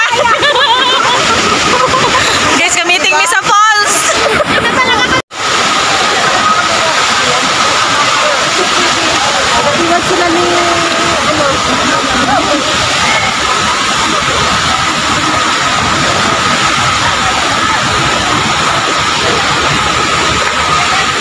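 Waterfall at Lake Sebu roaring as a loud, steady broadband rush throughout, with brief voices and a short dropout near the start.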